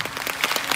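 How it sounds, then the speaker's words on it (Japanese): Brief burst of audience clapping at a live rock-and-roll monster show at Universal Studios Japan, several distinct claps loosely in time within a fraction of a second. "知ってるやつは全員拍手してみろ"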